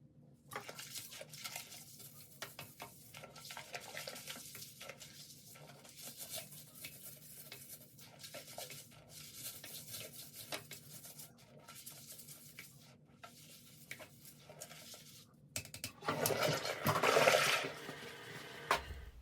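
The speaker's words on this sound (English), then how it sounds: "Now you can clean the inside of the bowl really well. Just make sure that you are scrubbing underneath the rim." A toilet brush scrubs inside a toilet bowl and under the rim, a continuous wet, scratchy swishing close up and moderately quiet, ending in a louder rush of water near the end, with no talk.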